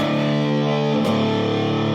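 An electric guitar played through a distortion pedal rings out as a loud sustained chord that shifts to a new chord halfway through, with no talking over it.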